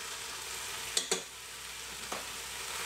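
Onions going into a hot pan for a gammon campfire stew, a soft steady sizzle with two quick clatters near the start and another a moment later.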